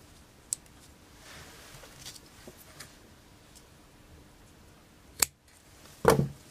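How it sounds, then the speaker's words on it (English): Scissors snipping paper antennas for a pleated paper butterfly craft, a few sparse, faint single snips in a quiet room, ending in two louder close cuts. "cut your antennas where you'd like them to be"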